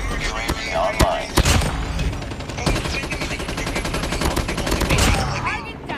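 Rapid bursts of automatic gunfire and single shots in a multiplayer shooter game, dense and loud, crackling throughout over game sounds and a faint voice.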